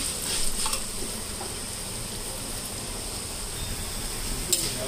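Coriander seeds slowly dry-roasting in a pan on a low flame, with a soft, steady crackling and occasional scrapes of stirring, close and continuous, with no talk.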